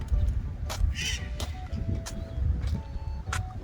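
A seagull near a lotus-filled reservoir gives several short, harsh calls in scattered bursts over a steady outdoor background.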